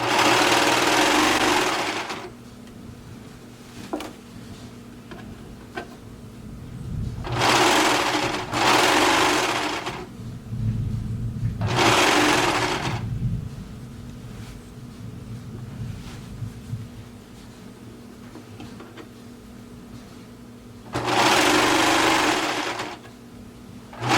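A sewing machine stitches elastic around a circular loop in several loud bursts of whirring, separated by quieter pauses, with no talking.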